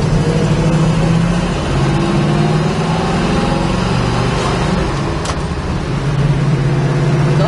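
A 1972 Chevrolet Nova's engine running steadily from inside the car while driving, a loud continuous low drone with mild shifts in pitch and road rumble, no talking over it.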